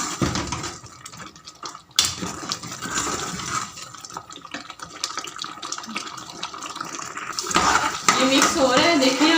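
Tomato and onion paste with spices cooks in a pot over a high flame for beef korma, with continuous sizzling, stirring and metal clatter, while a voice talks over it.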